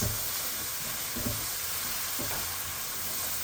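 Goat meat and Irish potato asun sizzling and frying in a pot as it is stirred, a steady loud hiss with occasional soft scraping of the spoon, close up and without speech.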